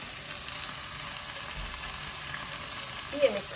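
Minced meat frying in a pan as hot water goes in, a continuous dense sizzle held at an even level, with one brief louder burst near the end and no voices.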